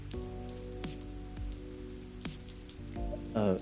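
Steady rain falls and patters on surfaces for a few seconds, close and fairly soft, with a few sharp sliding tones cutting through the wash of drops.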